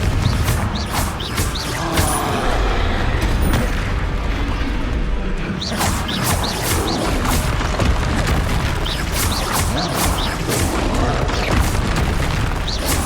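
The Confringo blasting spell is cast repeatedly in the game Hogwarts Legacy: a rapid series of loud, sharp booming bursts rings out in a steady rhythm over busy combat noise for the whole stretch.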